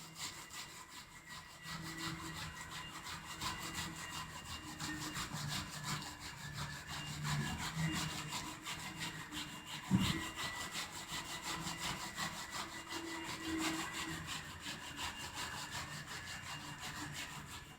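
A carpet spot is scrubbed by hand with ready-to-use cleaning solution, giving a quiet, steady back-and-forth rubbing that carries on continuously with one brief knock partway through.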